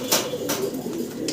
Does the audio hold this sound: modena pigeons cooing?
yes